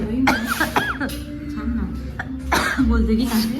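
A few short, harsh coughs burst out in a cafeteria, close and fairly loud, with a person talking between and around them.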